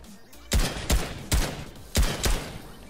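An infantry rifle fires in the Fortnite video game: five sharp, loud shots in an uneven rhythm, each with a short ringing tail, and no talking over them.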